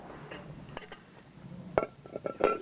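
Metal pieces clink and clatter as the bottom is lifted off a Storm Kelly Kettle, a few sharp taps and scrapes close by, faint and intermittent with quiet pauses between.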